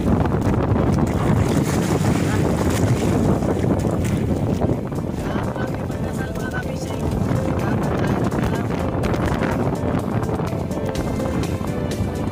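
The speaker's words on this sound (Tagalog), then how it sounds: "Lalaki ng alon mga kapising." Strong wind and heavy sea waves batter a fishing boat out on the open ocean at the Philippine Rise, with a steady, loud roar of gusts and water that dips briefly midway.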